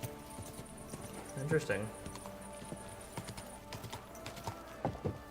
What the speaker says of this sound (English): Are you just riding my horse in a tight little area?